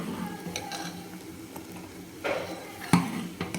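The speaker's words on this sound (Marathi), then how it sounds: "छान उकळी फुटलेली आहे" Kadhi tempered with green chili, garlic and cumin bubbles at a boil in a pot, a soft simmering hiss broken by a few sharp spoon-on-pot clinks near the end.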